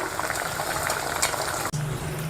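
Sweet pumpkin garige frying in hot oil, a steady bubbling sizzle close by with a brief clatter near the end, and no talking.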